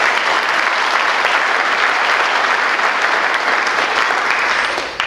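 An audience applauding at a police community outreach drug seminar in North Reading, dense sustained clapping that fills the room for several seconds before tapering off at the end.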